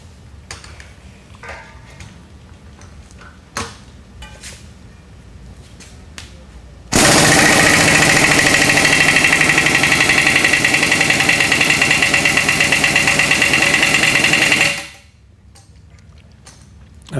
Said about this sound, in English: We've made a special tool which just allows us to use the impact gun